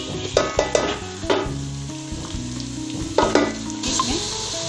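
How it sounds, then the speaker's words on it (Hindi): Onions fry in a pan with a steady loud sizzle as garlic-ginger paste is added, with stirring scrapes and bursts of crackling, close up and without talk. "प्याज हमारे फ्राई हो चुके हैं, अब हम डालेंगे इसमें लहसुन अदरक का ये पेस्ट"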